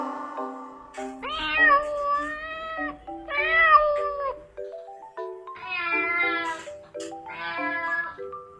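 A cat meows repeatedly, several drawn-out calls with pauses between, over a simple tonal melody in the background.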